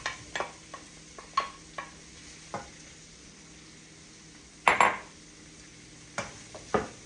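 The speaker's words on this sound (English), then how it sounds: "So now I'm going to go ahead and put in our shiitake mushrooms and our portobello mushrooms" Shiitake and portobello mushrooms sizzle in a stir-fry pan, a quiet steady fry broken by scattered clinks and scrapes of a utensil, with one louder burst of hiss midway.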